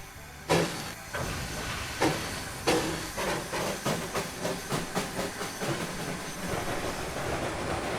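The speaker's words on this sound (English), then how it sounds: "I like the chuff rate." TBG 70-ton Climax geared steam locomotive in Trainz 2019, chuffing in a steady, fairly quick rhythm of loud exhaust beats over a continuous steam hiss, with a few sharper bursts early on.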